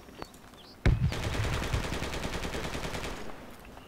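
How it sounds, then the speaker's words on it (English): A sharp shot followed by a sustained, steady burst of rapid machine-gun fire from an enemy in a video game, loud and continuous for nearly three seconds. "Yeah, I can hear him firing."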